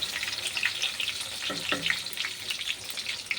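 Evening snacks fry steadily in hot oil, a continuous close sizzle and crackle with a brief clink partway through, no voices present.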